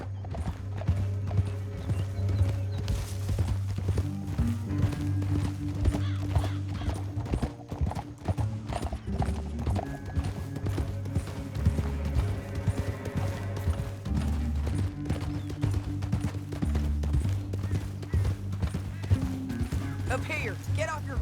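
Horse hooves clip-clop in a steady galloping rhythm in Red Dead Redemption 2, loud and continuous throughout, with a low rumbling background and brief voices in places.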